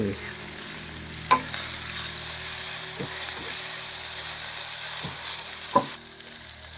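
Soaked dried thin rice noodles stir-fried in a pan, a constant loud sizzle with a few sharp scrapes and taps of a utensil against the pan spaced irregularly through it.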